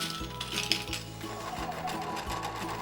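A sewing machine stitches velvet fabric with a rapid, even mechanical chatter, close and moderately loud, with regular rhythmic thumps running throughout and no talking.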